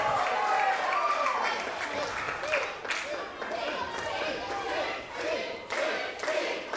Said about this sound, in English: The crowd, those C chants ringing out.